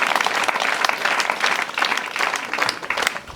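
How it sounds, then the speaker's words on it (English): An audience claps for a nun being thanked at a school ceremony, a steady, fairly close round of applause of many hands that carries on for a few seconds without pause. "Can we clap for her?"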